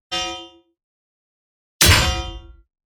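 Mid-high resonance layer for a heavy blade weapon sound: two bright metallic clangs, a short ringing hit followed by a louder, longer one after a pause, each decaying cleanly into silence.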